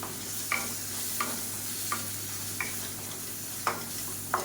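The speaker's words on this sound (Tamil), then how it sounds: "ஒரு டீஸ்பூன் போல் கறி மசாலா தூள் கொஞ்சமாக மஞ்சத்தூள் சேர்த்து வதக்கி விட்டுக்கலாம்" Ginger garlic paste, tomato, curry masala powder and a little turmeric sautéed in oil while making capsicum rice, heard as a soft steady sizzle with a string of sharp spoon scrapes against the pan at irregular intervals.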